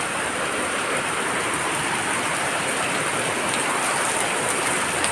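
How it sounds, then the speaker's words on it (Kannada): Heavy rain falling in Mangaluru during a low-pressure downpour, a dense, steady hiss of water pouring over surfaces, loud and unbroken with no voices. "ತುಂತುರು ಹೋಗಿ ಭಾರೀ ಗಾತ್ರದ ಮಳೆ"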